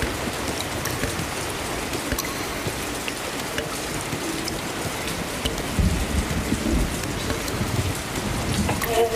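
Heavy rain pours in a dense continuous roar, with low thunder rumbling through it and a heavier roll of thunder swelling near the end, loud and enveloping with no voices.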